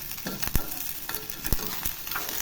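Tomato and mixed vegetables sautéing in a pan for vegetable pulao, with a steady sizzle broken by sharp scraping stir strokes at intervals.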